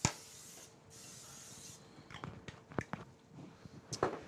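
Cooking spray hisses from a can onto two sheet pans in a home kitchen, a couple of longer sprays followed by short bursts and light clatter, close and fairly quiet.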